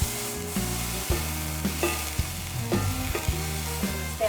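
Venison steak sears in a hot pan with a constant loud sizzle and crackle, broken by repeated scraping knocks of the pan or utensil, close up and with no one speaking.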